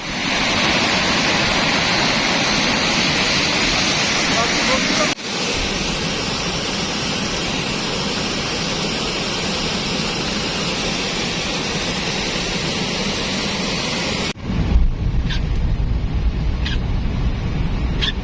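Heavy floodwater pours into Khanozai Dam from the Mochi side at night during rain, a loud, unbroken roar of rushing water with two brief cuts in the recording.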